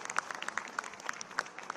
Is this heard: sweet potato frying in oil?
no